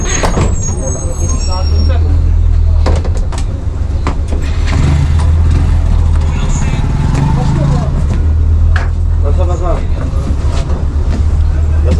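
A city bus on the Katraj–Saswad route via Kapurhol pulls in with a loud, close diesel rumble and sharp air-brake hisses, while people talk over the steady engine drone.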